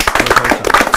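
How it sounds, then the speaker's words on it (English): A short burst of hand clapping from a small group, quick and uneven, close by. "Let's give ourselves a round of applause."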